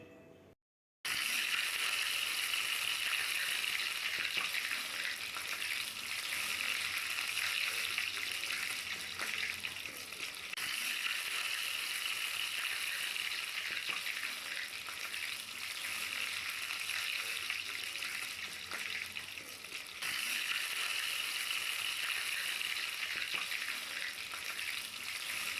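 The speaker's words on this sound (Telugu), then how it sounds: "మిర్చి పిండిలో అది బాగా వేడిగా ఉన్న ఆయిల్లో వేసుకోవాలి." Mirchi bajji, batter-coated chillies, frying in very hot oil, giving a steady loud sizzle that carries on unbroken for about twenty-five seconds with no voices.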